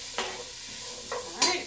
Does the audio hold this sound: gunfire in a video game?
no